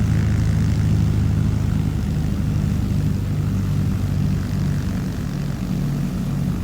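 Propeller engine of a Blackbox Simulations L-19 Bird Dog in Microsoft Flight Simulator 2020 (MSFS2020), a steady, loud droning hum with a low throbbing rumble that holds unchanged throughout, with no other sounds.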